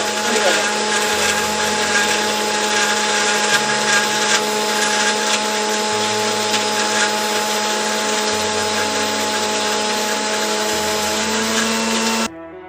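A blender grinding figs for juice runs loud and continuous, its motor whine shifting pitch in several steps before it cuts off near the end.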